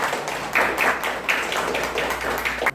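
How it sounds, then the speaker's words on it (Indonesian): Scattered applause from a small group in a classroom during a university teaching-practice lesson, uneven bursts of clapping rising and falling, with a faint hum underneath. "Tepuk tangan buat."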